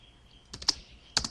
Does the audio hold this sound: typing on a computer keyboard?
yes